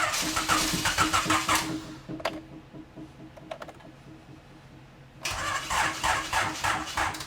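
A Honda EF Civic engine with a B17 swap cranks over with a rapid rhythmic chug, pauses with a few clicks, then cranks again, loud and close.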